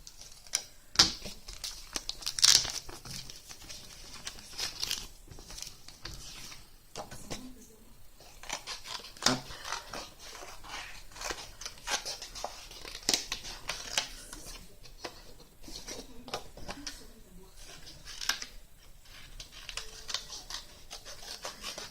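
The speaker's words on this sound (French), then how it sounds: "Donc je vais venir découper mon carton grossièrement." Cardboard being cut roughly with scissors, irregular snips, crunches and rustles close by, some sharp and loud, scattered over a long stretch with pauses between.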